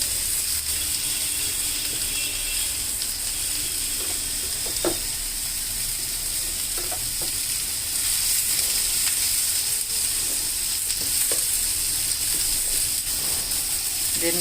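Grated potato and broccoli frying in a pan, a steady close sizzle and crackle running throughout, with occasional clicks and scrapes from stirring.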